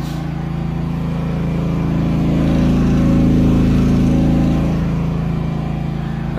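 A portable 3000-watt generator runs in a shed under a 1500-watt load, producing a loud, steady engine drone with a constant low hum that swells slightly midway and never stops.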